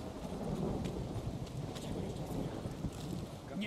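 Thunder rumbles low and steady over rain and wind in The Witcher 3 game, a continuous stormy roar without clear speech.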